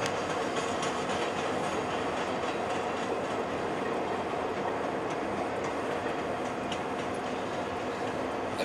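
A train rolls past steadily, wheels clattering and rumbling continuously with occasional squeals, heard from moderately nearby.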